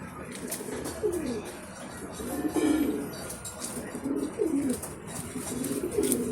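Several A-class pigeons with eleven-feather wings coo in repeated low, rolling phrases at close range, with a faint background murmur between calls.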